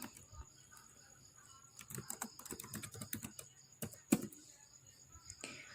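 Router configuration commands being typed on a computer keyboard in a Packet Tracer exercise, with scattered close keystrokes building into a denser run and one sharp, loud key press near the middle.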